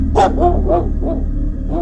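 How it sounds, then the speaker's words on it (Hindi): A dog barks in a quick run of four or five sharp, loud barks close by, with nothing else heard around them. "मेरे घर में मेरे कुत्ते के भौंकने की काफी ज्यादा आवाज सुनाई दे रही होती थी"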